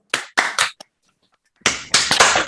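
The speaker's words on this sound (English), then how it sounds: "join me in giving him a warm round of applause" Remote participants on an online lecture call about Nietzsche clap to welcome a speaker in a few short, sharp bursts, separated by a pause of silence, then a louder run of claps.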